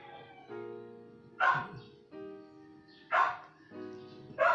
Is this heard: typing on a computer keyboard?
no